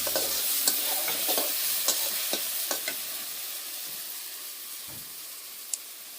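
Fish curry with tomato cooking in a pan: a soft, steady sizzle with several light clicks of a spoon stirring at intervals, heard up close without voices.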